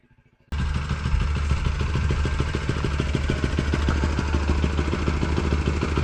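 A motorcycle engine starts up and runs steadily at idle with a rapid, even clattering beat, close and loud, continuing without talk for several seconds.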